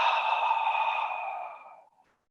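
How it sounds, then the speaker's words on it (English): One long, slow exhalation through the mouth during a yoga breathing practice. It is close and breathy, with a soft steady rush that fades out after about two seconds. "Then breathe out."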